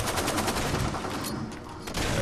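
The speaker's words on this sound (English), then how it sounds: "shotguns and heavy machine guns." Dense bursts of shotgun blasts and heavy machine gun fire in the Far Cry 2 video game, loud, continuous rattling with a brief lull before resuming.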